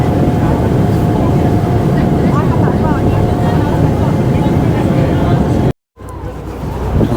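A steady engine drone and rushing water from a boat moving along the River Thames, with faint voices underneath, then a brief cut to silence.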